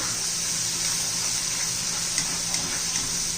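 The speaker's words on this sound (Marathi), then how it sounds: "आता छान असं आपण चार पाच मिनिटं याला परतून घ्यायचंय" Masala sizzling steadily in a hot pan while being sautéed for rajma masala, a continuous broadband frying hiss with a few faint scrapes, close and alone with no talk.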